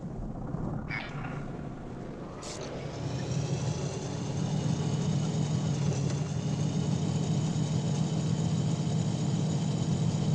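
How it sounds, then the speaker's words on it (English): Truck engines start up in the horror trucking game Prospice: Anomalous. After a brief clunk, a low steady rumble swells and holds with a faint whine above it, loud and continuous, with no voices. "as soon as I start the engines"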